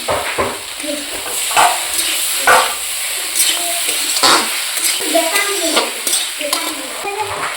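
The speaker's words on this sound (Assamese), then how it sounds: "ধুনীয়াকৈ এইখিনি ভাজি ল'ম" Vegetables and potatoes sizzle and crackle in a hot pan while a utensil scrapes and stirs them in repeated strokes, close and steady, with no talking.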